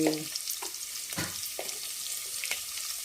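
Four garlic cloves fry in a pan for stuffed masala brinjal curry, making a quiet, steady sizzle broken by a few soft clinks and scrapes. The sound is close but low in level, with no talking.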